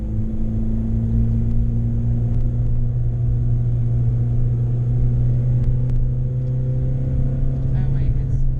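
A manual-transmission car's engine idles and pulls in first gear as a learner drives stick, a steady, close, low droning hum with a constant pitch throughout.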